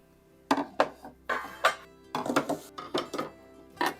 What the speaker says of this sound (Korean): 집에 이렇게 많은 냄비 뚜껑이 있었더라고요